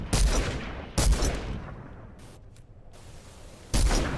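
Gunfire in the video game Squad, with three loud, sharp shots a second apart, then a pause and a fourth, each followed by a long echoing tail over quiet outdoor ambience.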